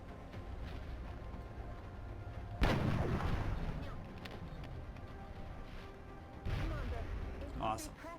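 A sniper rifle fires in XCOM: Enemy Within (Long War mod), a heavy booming shot with a long rumbling tail, followed later by a second blast, set against quiet game ambience.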